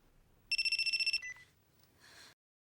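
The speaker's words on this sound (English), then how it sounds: "Answer the chuffing phone." A telephone rings with a fast electronic warble, one burst of about eight pulses, then a brief fainter trill follows in a quiet room.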